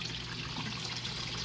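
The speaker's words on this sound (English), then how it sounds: "we're draining that water back off" Water drains off freshly washed spinach in a faint, steady trickle and dribble, close and continuous with no voices.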